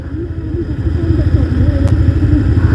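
A motorcycle descends a hill road in Bandarban on the way from Nilgiri to Thanchi, its engine droning steadily up close with a wavering pitch, while people talk over it.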